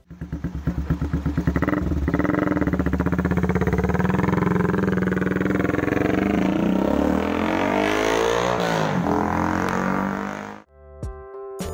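A 150cc sport-fairing motorcycle engine sounds up close, climbing from a pulsing idle into a long, loud, sustained rev that sweeps up and down before cutting off abruptly near the end.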